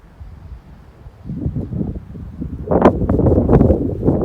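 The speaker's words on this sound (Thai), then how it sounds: "ลมแรงจ้ะ" Strong wind buffets an outdoor roadside spot during a brief stop, a low rumbling roar that swells louder partway through with gusty rustling, no one speaking over it.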